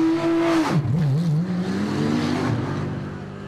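A Porsche race car pulls out of the pit lane during the Nürburgring 24-hour race, its engine note holding steady then dropping and climbing again as it accelerates away, loud and near.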